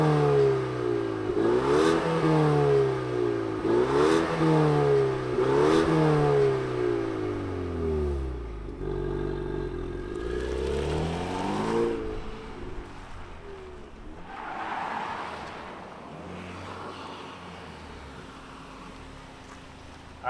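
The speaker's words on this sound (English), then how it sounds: "since we're starting with the EcoBoost, let's fire it up and hear what it sounds like" A 2024 Ford Mustang EcoBoost revving through three quick throttle blips that rise and fall, then a longer rev that settles into a lower idle fading away.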